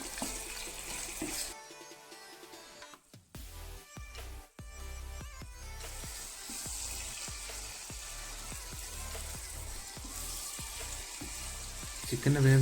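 Chicken frying in oil in a pan, a steady close sizzle with crackles and a few louder clatters and scrapes early on, continuing without any voices.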